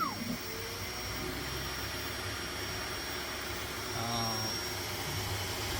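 Creality K1 Max 3D printer running a Benchy at high speed, giving a steady whirring hum of fans and motors with faint quick stepper chirps, close and continuous for the whole stretch.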